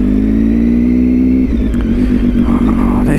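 Triumph Tiger 800 motorcycle engine idling loudly and steadily nearby, then blipped through several short revs in its second half, with no talk over it.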